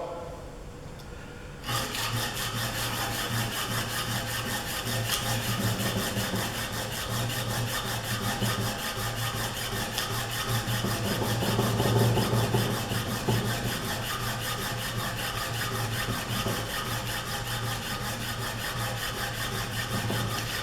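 Steady hand rubbing to remove a small mark on an engineering drill gauge, a continuous close, quiet scrubbing that starts after a brief pause and keeps an even rhythm with no talk.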